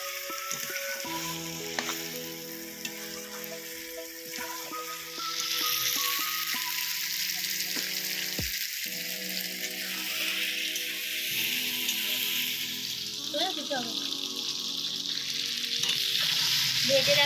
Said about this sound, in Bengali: ভালো করে মাংসটাকে কষে নেব।